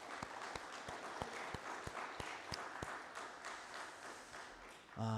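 A church congregation gives sustained applause during a year-end Sunday worship service, with dense, steady clapping and a few sharper individual claps standing out.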